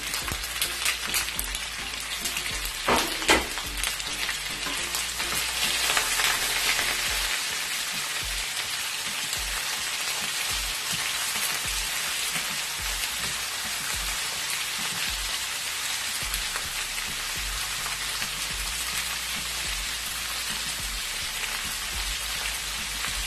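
Half a kilo of beef frying in a pot for bhuna gosht, giving a dense, continuous sizzle like steady rain, loud and close throughout with a few sharper crackles early on and no voices.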